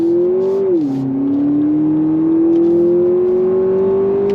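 A 2026 Lexus TX 350 F Sport SUV accelerates hard with a loud, steady engine drone whose pitch dips briefly at a shift and then climbs smoothly, heard from inside the cabin without talk.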